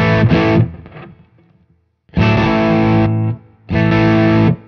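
Heavily distorted electric guitar chords through a DS9 distortion pedal hit in three loud bursts, with a faint hiss and buzzing noise audible in the quiet gap between them.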